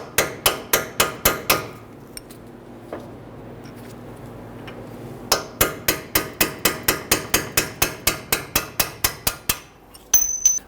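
A hammer strikes a punch to drive a bolt out of a front lower control arm on a 2011-2017 Nissan Quest, sharp metallic blows in quick rhythmic bursts, close and loud, with a pause between the two runs.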